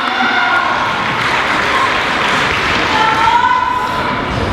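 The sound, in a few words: audience applause for the dancers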